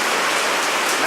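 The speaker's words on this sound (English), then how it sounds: "It's raining." Steady rain falls outdoors over a garden in a dense, even hiss that continues without a break through the short stretch, close and moderately loud.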